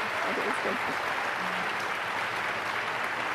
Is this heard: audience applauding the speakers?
yes